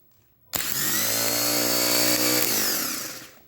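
Rebuilt starter motor from a Fordson E27N tractor spinning up abruptly on the bench, a loud steady electric whine with strong harmonic tone that holds for about two and a half seconds, then fades as it winds down.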